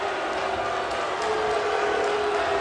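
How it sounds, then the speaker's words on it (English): Wrestling crowd at a televised NWA TNA event in Nashville cheering for the King of the Mountain, a steady, dense roar of voices held at even loudness throughout. "crowd showing their love for the King of the Mountain"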